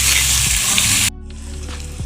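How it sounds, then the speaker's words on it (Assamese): Three large onions drop into hot oil in a kadai and fry with a loud, bright sizzle that cuts down sharply after a second to a softer, steady crackle. "এইখিনি দি পেলাই ধুনীয়াকৈ পিয়াজখিনি ভাজি ল'ম।"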